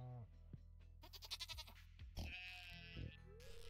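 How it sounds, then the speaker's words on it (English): Goats on a small farm bleat in a quick wavering cry near the microphone, followed by a longer nasal bleat, with a quiet steady hum and some rustling beneath. "My little goats?"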